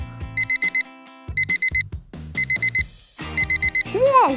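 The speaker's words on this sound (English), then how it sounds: "That's a smoke detector. It's beeping because it detects smoke nearby." A smoke detector sounds in groups of quick, piercing electronic beeps, loud and near, with short pauses between the bursts and a few soft cartoon sound effects mixed in.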